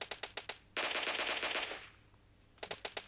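Automatic gunfire in PUBG rattles out in short, sharp bursts, then a long continuous volley, a brief lull, and a final quick burst, close and clear with no talking.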